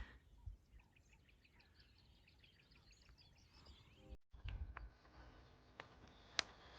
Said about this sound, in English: Beautiful nature sounds. Birds flying around,